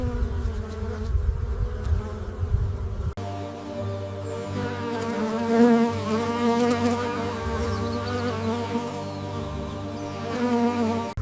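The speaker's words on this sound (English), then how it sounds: "Bees move methodically from flower to flower" Steady bees buzzing continuously among blueberry blossoms, a close, layered insect drone that swells slightly and never lets up.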